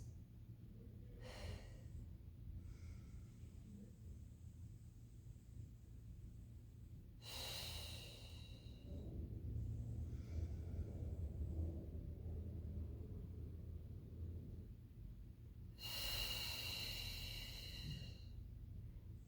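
Breathing during a Pilates mat exercise, with several loud, close breaths spaced a few seconds apart, some sharp like nasal inhales and others longer exhales, over quiet room hum and no talk.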